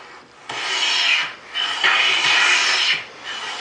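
A hand plane shaves thin curls off a wooden board in two long, smooth, hissing strokes, close and fairly loud, with no talk.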